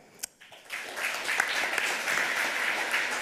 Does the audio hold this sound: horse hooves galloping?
no